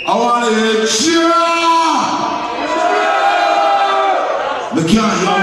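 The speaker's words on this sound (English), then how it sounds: "I want to hear cheer!" A crowd at a live reggae concert in Arnhem roars and cheers continuously, loud and close, with a brief dip and a fresh swell near the end.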